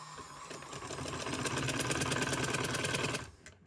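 A sewing machine stitches lace onto the side-slit hem of a kameez, whirring in a steady close rapid rhythm for about three seconds before winding down, with no talk.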